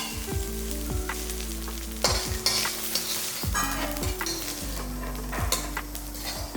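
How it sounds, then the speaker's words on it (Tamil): Grated coconut and spices sauté in a pan for a Tamil-style karunai kizhangu puli kuzhambu, with a soft continuous sizzle and repeated spatula scrapes and clinks against the pan, no voices. "இதெல்லாம் நல்லா வதக்கிடலாம்."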